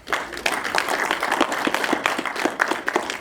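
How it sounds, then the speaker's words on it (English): A film premiere Q&A audience applauds steadily, a dense patter of many hands clapping at once, fairly close and sustained throughout without letting up. "A round of applause for all of you."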